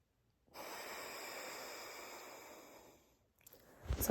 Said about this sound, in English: Exhale all the air. And then inhale.